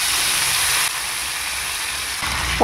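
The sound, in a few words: katla fish frying in hot oil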